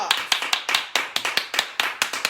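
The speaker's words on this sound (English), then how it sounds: "I want you all to give a round of applause" Sparse, uneven clapping from a small group welcoming a guest, Camille Cosby: about a dozen distinct sharp claps spaced irregularly, close and moderately loud, with no steady crowd roar.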